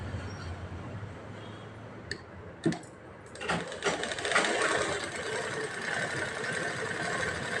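A sewing machine stitches a blouse hem, its motor whirring steadily at close range after a few sharp clicks, running on continuously to the end.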